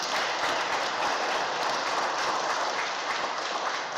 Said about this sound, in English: this is the loudest applause we're going to get